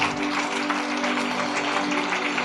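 A church congregation applauding and cheering the Lord during a French-language worship service: steady, sustained clapping that fills the room, with a low tonal hum beneath it.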